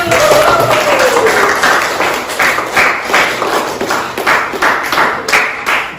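A classroom group clapping hands after a math presentation, loud and close, starting as a rapid mass of claps and settling into rhythmic, pulsing rounds that continue throughout.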